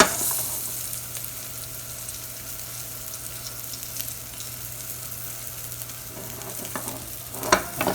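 A 4-ounce salmon fillet frying in a hot pan gives a steady, even sizzle with faint crackles. It runs unbroken and mid-level throughout, with a brief louder crackle near the end and no voices.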